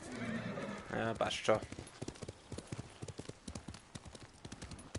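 Horse in the Ghost of Tsushima video game whinnying, then hooves clip-clopping in a steady patter, with someone talking briefly over the sounds.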